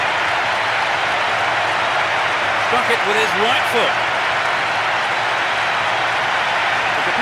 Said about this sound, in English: The crowd are enjoying the goal celebration.